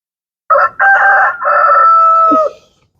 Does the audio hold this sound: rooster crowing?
yes